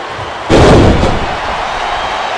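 A wrestling crowd in WWE Smackdown vs RAW 2008 on Xbox 360 roars as a loud, broad surge that rises suddenly, holds for about half a second and then settles into a steady crowd din.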